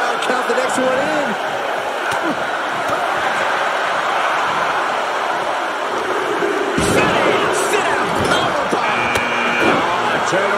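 A WWE 2K video game crowd chants in unison over a constant arena din, with sharp slams and thuds from the ring and brief bursts of cheering, under a commentator's voice.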